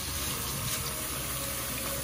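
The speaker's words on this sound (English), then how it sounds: "run some cold water on them" Cold water runs steadily from a kitchen tap over raw pork neck bones being rinsed clean in a sink, a constant close hiss and splash with no talking.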